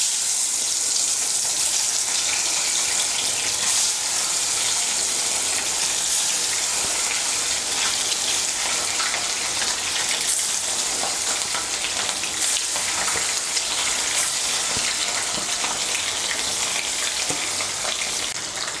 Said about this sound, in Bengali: তেলটা গরম হয়ে গিয়েছে, এর মধ্যে আমি মাছগুলো ভেজে নিচ্ছি।